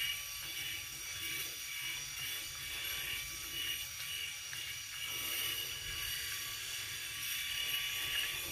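An electric shaver runs steadily with a constant high-pitched mechanical buzz and faint gear-like ratcheting, close and unbroken, with no talking.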